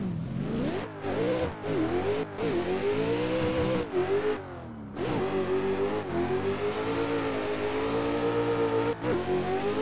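Nissan 400Z drift competition car accelerating on a track, its engine revving hard through repeated rising pulls separated by brief drops between gears, loud and close, with no speech.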